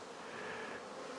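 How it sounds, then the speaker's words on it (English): Bees buzzing around a beekeeper's hives as they bring in pollen, a steady dense droning hum that holds evenly throughout, with no talk over it. "But anyway, look at these bees."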